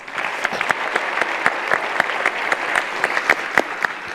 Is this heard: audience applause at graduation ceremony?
yes